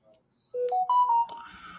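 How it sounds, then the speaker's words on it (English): A Messenger phone call ringtone plays close by, a short rising sequence of clear tones stepping upward in pitch over about a second and a half, standing alone without speech. "a messenger phone call."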